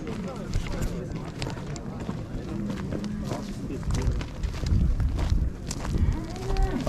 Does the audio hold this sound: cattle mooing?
yes